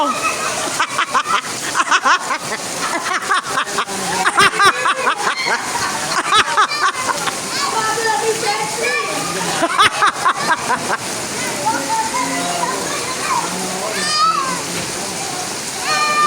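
People splash and swim in water during rain at a reunion in Pampanga, with rhythmic sloshing and splatter throughout and several voices, including children, talking and calling over it.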